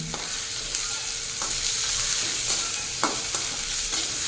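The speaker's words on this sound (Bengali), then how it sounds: "বেগুনটাকে 2-4 বার একটু নাড়িয়ে মিশিয়ে ভেজে নেব।" Cut eggplant fries in garlic oil with a strong, steady sizzle, punctuated by a few clattering spatula strokes as it gets stirred several times; no speech.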